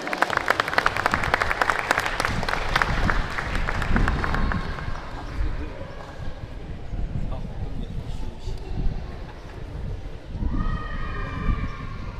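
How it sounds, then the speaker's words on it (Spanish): An audience at the inauguration ceremony of a Tecnológico Nacional de México campus in Tlahuitoltepec Mixe applauds, with brisk dense clapping for the first few seconds that thins into softer crowd noise and background sounds. "la maestra Julieta Carrera Martínez, para quien pido un fuerte aplauso."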